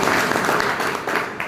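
Steady applause from an audience at a community association meeting, a dense, continuous clatter of many hands clapping that fills the whole moment without pause.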